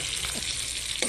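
Pechay stems sauté in a pan with garlic, onion, tomato and fish sauce, giving a brief, close, steady sizzle with a sharper scrape or stir burst near the end, and no voices.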